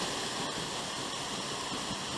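A waterfall at Machine Falls pours in a steady, broad rushing roar, constant and unbroken from nearby, with no voices over it.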